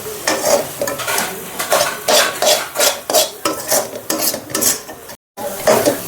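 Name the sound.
stirring chili powder into amaranth and moong dal fry in pan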